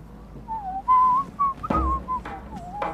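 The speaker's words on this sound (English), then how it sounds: "Instead, I'm whistling." A person whistles a slow, wavering melody of short sustained notes with brief pauses between them, close and fairly quiet, with a faint thump partway through.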